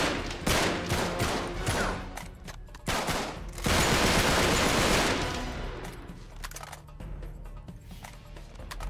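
Gunfire from 7.62 rounds in the video game Uncharted 3: Drake's Deception rings out as loud, dense bursts of automatic shots, a long sustained volley, then scattered single cracks.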